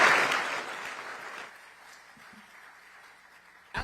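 Audience applause for a glee club at a State of the City Address in an auditorium, a loud burst of clapping that fades to a softer patter after about a second and a half.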